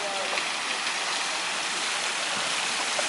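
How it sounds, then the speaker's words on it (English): A water fountain in a town square, giving a steady, even rush of splashing water that fills the whole stretch, loud and close, with faint voices underneath. "Fountain's lovely, isn't it?"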